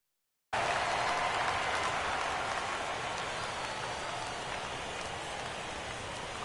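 A baseball stadium crowd at a Cubs NLDS Game 3 rises into a sustained, dense roar of cheering on a 3-2 count, loud and unbroken after a brief silence.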